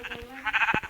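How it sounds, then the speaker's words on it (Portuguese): Sheep bleating in a Minecraft-style video game, two or three short wavering bleats in quick succession, clear and close, with no talk. "E tem mais 2 ovelhas aqui."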